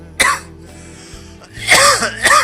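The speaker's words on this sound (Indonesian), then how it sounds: "Batuk nih." A single sharp cough, a pause, then two more coughs in quick succession, close and fairly loud with nobody talking.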